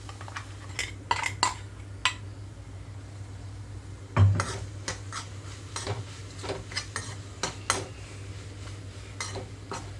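A spoon scrapes and taps against a pan while fresh coconut chutney is stirred into its tempering, a quiet steady series of clinks over a low background hum.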